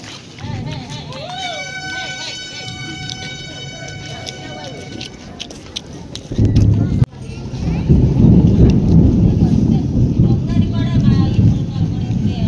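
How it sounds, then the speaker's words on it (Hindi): Heavy rain pouring at Tara Tarini temple, a dense loud hiss that jumps up midway and stays strong, with a thunder-like rumble underneath and people talking over it; early on a tonal whine is heard. "तारा तारिणी मंदिर पाखे वर्षा बहुत जोर"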